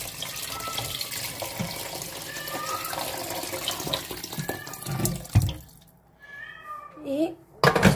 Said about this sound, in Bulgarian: Извинявам се за мялкането на котката.